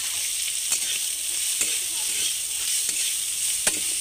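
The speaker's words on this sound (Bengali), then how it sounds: "তেল গরম হয়ে গেছে, তার মধ্যে চামাচগুলি ভেজে নিয়ে দিচ্ছি।" Small dried icha shrimp fry in hot oil with a pinch of salt, giving a steady close sizzle broken by a few sharp clicks of stirring.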